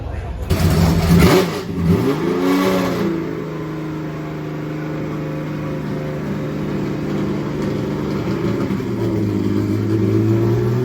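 Engine of a 1983 Subaru GL wagon race car with active aero, parked among race cars at Goodwood: a loud burst of revving that drops back to a steady, close idle drone.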